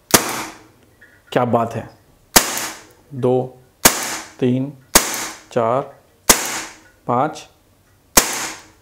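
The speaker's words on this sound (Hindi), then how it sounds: "अब मैं फायर करूंगा तो मैं निशाना नहीं लगा रहा I will fire randomly, so watch." Umarex Beretta M9A1 CO2 air pistol fired about eight times in a slow, steady rhythm, each sharp, close crack followed by a voice speaking between shots.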